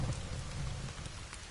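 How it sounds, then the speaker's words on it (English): Rain in the survival video game The Forest, a steady dense patter of drops with a low rumbling undertone, continuous and even, with no talking. "Rain won't stop that fast."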